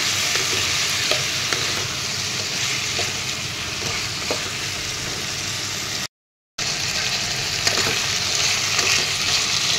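Chicken with salt and turmeric frying in a pan while being stirred, an even crackling sizzle with occasional spoon scrapes, close and steady, briefly cut to silence partway through.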